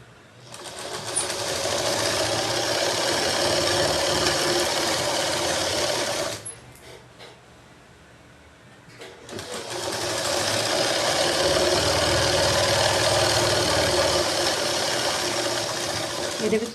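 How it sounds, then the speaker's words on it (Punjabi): A sewing machine runs a straight seam through doubled cloth in two long, steady whirring bursts, close and loud, separated by a brief pause of a few seconds. "ਤੁਹਾਨੂੰ ਸਿੱਧੀ ਸਲਾਈ ਲਾਣੀ ਵੀ ਆ ਗਈ"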